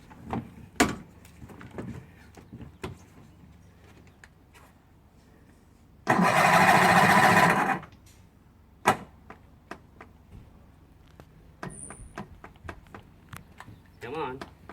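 A Zip scooter engine is cranked to start it, giving one loud, steady churning burst of about two seconds, with scattered clicks and knocks before and after.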